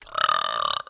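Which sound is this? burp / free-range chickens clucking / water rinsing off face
burp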